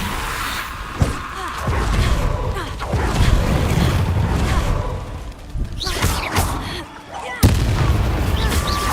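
Harry Potter video game spell blasts, Incendio fire spells among them, in dense repeated booming bursts with thuds and crackling over a loud continuous rumble, with a few sharp strikes standing out near and loud.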